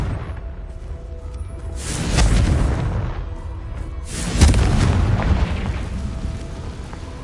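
Two heavy booms of the Confringo blasting spell in the Hogwarts Legacy video game, the first about two seconds in and a louder one shortly after, each trailing off in a rumbling decay.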